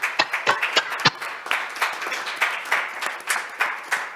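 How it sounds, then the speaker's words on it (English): Audience applause for forum panelists, with a few sharp, distinct claps at first and then a steady, moderately loud patter from a sizable room of attendees. "can we have a round of applause, please, for our panelists today and the presentations that we've heard."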